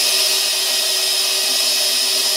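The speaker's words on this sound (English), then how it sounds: "We're just going to drill a hole here." A power drill bores a hole through a box in one continuous high-pitched whine, steady and loud at close range with no voices.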